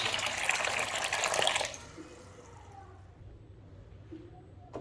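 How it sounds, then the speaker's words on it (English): Water runs from a tap as basmati rice is washed, a steady gushing stream that is loud for the first couple of seconds, then drops to a softer trickle and swish. "Now I'm gonna wash it and soak it for about 30 minutes."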